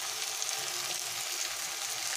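Turmeric, salt, chili powder and cumin powder fry for a mutton fat curry, an even, continuous sizzle at moderate volume with faint stirring underneath.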